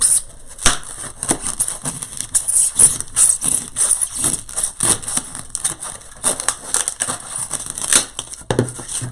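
Floral foam is trimmed to size up close, giving repeated crunchy, crumbly cuts and snaps in an uneven rhythm with brief pauses between them.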